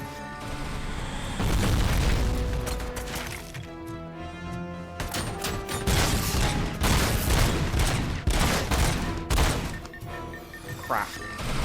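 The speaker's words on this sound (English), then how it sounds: "Just straight up shooting through walls." Gunfire in RoboCop: Rogue City, dense bursts of shots, crashes and impacts hitting through walls, loud and close nearly throughout, with a few brief quieter gaps.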